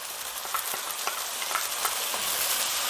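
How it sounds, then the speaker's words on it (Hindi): Wet spice paste frying with golden onions in oil, a steady close sizzle with a few soft stirring scrapes and clicks throughout, no voices. "इसे हम 2-3 मिनट के लिए अभी तेल अलग होने तक भूनेंगे"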